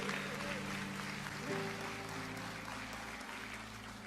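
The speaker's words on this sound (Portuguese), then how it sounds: "Você pode dar um aplauso bem forte a Jesus," Congregation in a church service clapping strongly together, a faint but steady wash of applause with sustained musical tones from instruments underneath.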